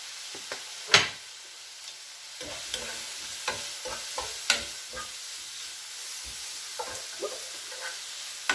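Onion sautéing in a pan with meat, a soft sizzle under repeated scraping and tapping of a spoon stirring, irregular and close, with no talking.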